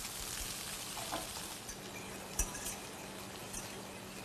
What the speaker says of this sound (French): Il fait revenir les filets de truite dans du beurre